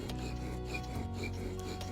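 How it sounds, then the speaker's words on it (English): A bow drill grinds against a wooden board to make a friction fire, giving a steady, rhythmic rasping and rubbing with regular back-and-forth strokes, close and continuous with no talking. "you'll begin to grind off dust from both the drill and the board"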